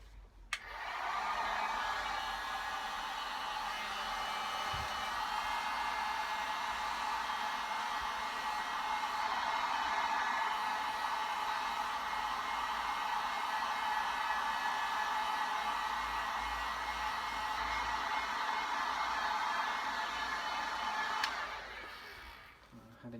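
A heat gun blows steadily on a moulded armour piece for about twenty seconds, a continuous, fairly loud hiss-like airflow that starts abruptly and cuts off near the end.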